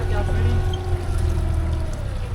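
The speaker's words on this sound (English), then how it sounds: "we are motor sailing at the moment" A sailboat's engine chugs steadily at low pitch while motor sailing, with water rushing along the hull and a voice speaking over the drone.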